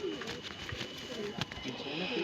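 Pigeons coo softly in the open air at a summer flying tournament in Bareilly, Uttar Pradesh. The faint calls sit under a voice talking nearby.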